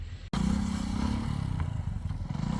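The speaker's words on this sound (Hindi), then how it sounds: "एक बाइक चढ़ चुकी है, अब दूसरी बाइक चढ़ रही है ऊपर।" A motorbike climbs a steep slope on an adventure trail at dusk, its engine droning loud and close with steady low rumbling after a brief silence at the start.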